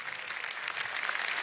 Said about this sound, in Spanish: Vamos a darle un aplauso al espíritu guerrero inmortal de nuestro general en jefe